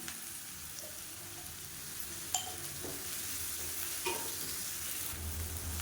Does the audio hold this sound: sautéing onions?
yes